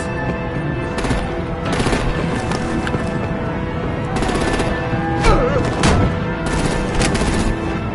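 Artillery and gunfire in Batman: The Telltale Series boom and crackle as a battle rages, with repeated bursts of shots over a constant rumbling din and a few sharp impacts near the end.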